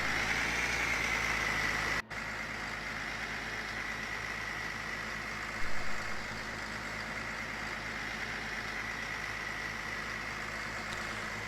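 A video game tractor engine idles at an even drone throughout, with one brief dropout and a short bump partway through.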